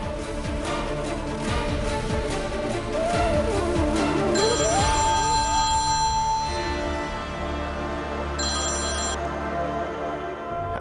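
A telephone ringing on an outgoing call, repeated electronic ringback tones at moderate level over a background of music.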